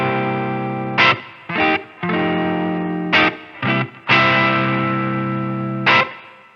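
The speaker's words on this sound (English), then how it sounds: "you should get a sound that's something like this" Electric guitar played through a Line 6 POD Go running a Fender Deluxe Reverb amp preset, high cut set at 8 kHz and low cut at 85 Hz: sustained distorted chords and notes, broken by short separate strums and stabs, loud and close.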